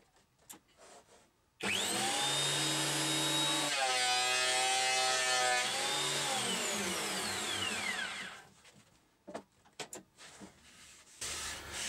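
A thickness planer used in place of a jointer feeds a thin wooden board through in one loud, steady pass of about six seconds, with its motor whine rising and falling, then the machine runs down, leaving quieter knocks and shop noise.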